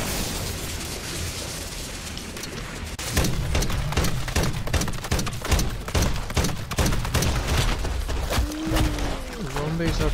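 Battle rifle gunfire in MW3 Zombies bursts into a loud, rapid string of close shots after a few seconds of ambient noise, with a voice speaking over the shooting.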